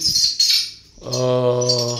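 Swiftlets chirp around a small swiftlet house converted from a bedroom, with bright high calls crowding the first second before a steady tonal hum takes over.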